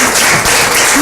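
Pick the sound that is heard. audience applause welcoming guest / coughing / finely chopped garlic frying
audience applause welcoming guest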